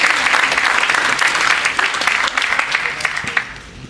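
An audience breaks into loud, sustained applause for a guest, many hands clapping in a dense, even wash that tapers slightly toward the end.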